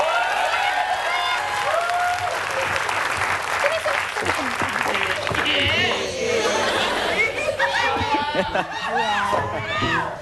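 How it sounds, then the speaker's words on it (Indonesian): A TV studio audience claps loudly in a continuous burst, mixed with crowd chatter and some laughter, while voices talk over the applause. "Tepuk tangan dong buat Tengku Wisnu."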